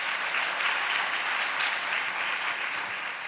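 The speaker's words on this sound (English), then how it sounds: "a huge round of applause for them too" An audience at a Kathak dance recital claps steadily and continuously, a dense, even wash of applause heard alone with no talking.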